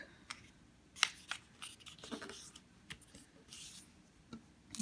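Paper being folded and creased by hand for a modular origami Sonobe cube, close and quiet, with scattered crisp crinkles and taps at irregular intervals.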